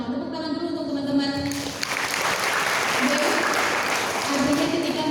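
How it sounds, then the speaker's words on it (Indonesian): A seminar audience at a university breaks into steady clapping after a voice amplified through speakers, and the applause holds dense and sustained with the voice briefly returning over it. "Tepuk tangan dulu untuk teman-teman."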